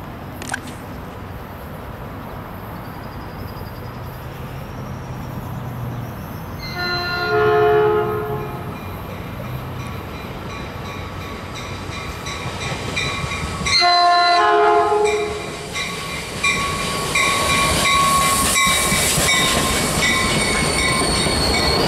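A Caltrain commuter train approaches at Millbrae and sounds its horn in two loud blasts, then rumbles past close by with wheel noise and a rising metallic hiss.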